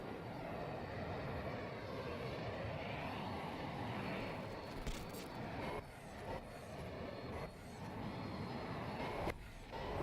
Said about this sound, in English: It's so annoying, the afterburner sound, man.